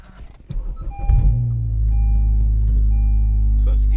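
Clunks and a jingle of keys, then a 9th-generation Honda Civic Si engine with a Hasport rear motor mount cranks and settles into a steady low idle with a faint rattle.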